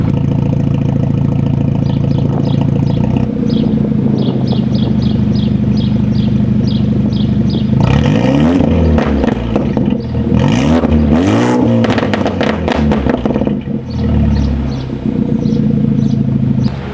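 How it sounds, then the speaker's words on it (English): BMW F30 328i with a custom Flowmaster axle-back exhaust, heard loud and close: a steady idle, then several sharp revs that rise and fall, followed by a return to idle. "I'll do some revs."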